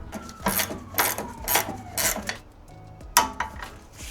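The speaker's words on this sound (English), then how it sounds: "And now we're just torquing up everything we can without having the suspension loaded" A torque wrench tightens car suspension bolts, giving a run of sharp metallic ratcheting clicks in a steady rhythm roughly every half second, close by, with a brief pause before a final louder click and a few more.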